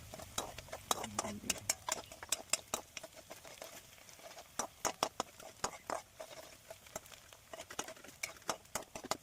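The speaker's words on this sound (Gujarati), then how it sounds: "અને એ તેલમાં ડુંગળીને લીલા મરચાં નાખી દઈશું અને ડુંગળીને પણ લાલ થાય ત્યાં સુધી ફેરવશું." Chopped onion and green chillies stirred in hot oil in a pan, with dense crackling sizzle and repeated light spatula scrapes and taps close by, while a voice talks intermittently over it.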